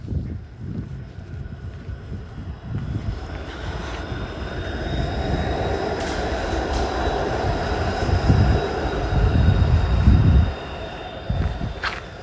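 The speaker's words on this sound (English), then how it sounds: "Here goes by a streetcar." Toronto streetcar passing along Dundas Street West, a rumbling, rattling rail roar that swells as it nears and peaks before dropping away abruptly, heard outdoors from the sidewalk.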